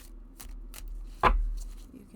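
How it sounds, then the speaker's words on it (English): Tarot cards, a Guardian Tarot deck, riffled in an overhand shuffle, with one sharp papery burst of card noise over faint rustling and handling. "So we can do a very full shuffle"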